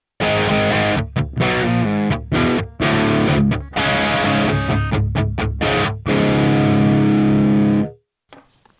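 Electric guitar played through a Donner Hush X Pro amp on preset C2, amp only, rings out loud and heavily distorted in sustained chords broken by short choppy stops, ending in a long held chord that cuts off.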